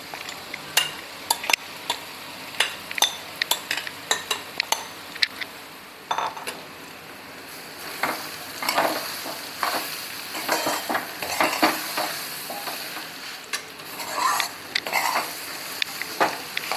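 Ground dal is stirred and sautéed in a hot tempering with curry leaves and turmeric, giving a soft sizzle under repeated sharp scrapes and clinks of a spoon against the pan, irregular and close.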